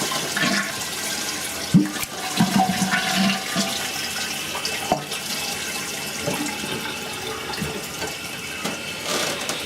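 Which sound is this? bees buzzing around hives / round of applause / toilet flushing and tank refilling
toilet flushing and tank refilling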